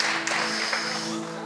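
Congregation applauding during a Christmas church service, a fairly loud wash of clapping hands that gradually thins out, with a faint sustained tone underneath.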